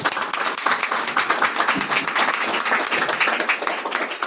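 A congregation at a Christian healing and New Year blessing meeting claps together in steady, dense applause that fills the hall and holds loud throughout, with no voices rising above it.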